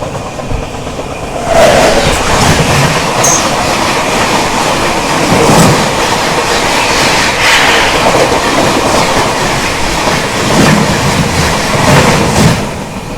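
The 11302 Bengaluru–Mumbai Udyan Express rushes past on the adjacent track while crossing the Deccan Queen, a loud, close, sustained roar of wheels with rhythmic clickety-clack from the passing coaches.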